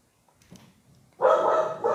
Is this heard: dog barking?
yes